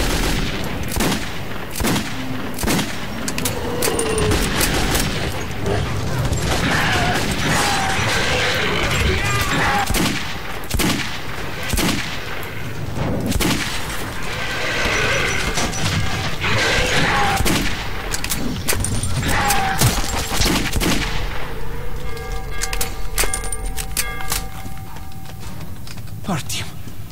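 Sustained gunfire rattles through a Metro 2033 firefight, rapid bursts and single shots cracking loudly and irregularly throughout, with voices talking underneath.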